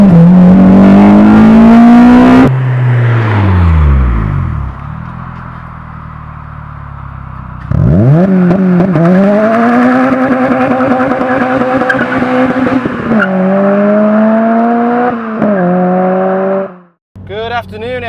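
A Honda Civic EP3 Type R engine revs hard and loud, climbing through gears with rising whine, dropping off and pulling again in repeated bursts, with tire squeal and close, intense exhaust roar throughout.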